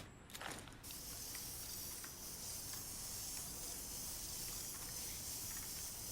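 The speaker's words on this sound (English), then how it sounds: "Okay, repair spray. Fully restored" Repair spray in the video game Death Stranding 2 gives a brief burst of spraying at the start, then a steady, soft hiss that carries on alone.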